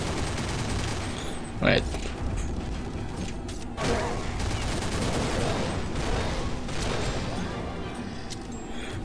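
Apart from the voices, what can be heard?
P90 Turtle Rabbit gunfire in a video game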